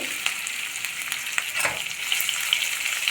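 Capsicum masala sautéing in a pan for a potato filling, a steady crackling sizzle with occasional sharp pops and a stirring scrape, close and moderately quiet with no speech.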